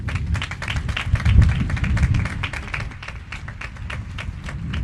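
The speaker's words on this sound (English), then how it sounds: "let's have a round of applause" High school graduation audience in 2021 breaking into applause, a sustained, fairly close wash of many hands clapping with dull thumps beneath, steady for several seconds.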